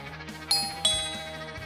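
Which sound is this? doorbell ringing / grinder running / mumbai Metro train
doorbell ringing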